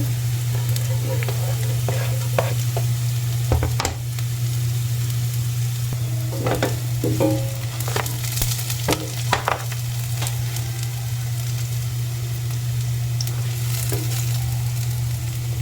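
Garlic frying in a pan, sizzling steadily and loudly throughout, with occasional scraping and clinks of a utensil stirring, over a constant low hum.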